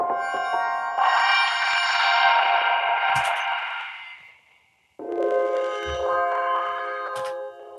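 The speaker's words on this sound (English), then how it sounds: "which is just applying like a tape distortion" Washy, smeared synth tones through granular delay with tape distortion swell and sustain with a grainy, echoing texture, fade out, then return in a second dense, warbling burst.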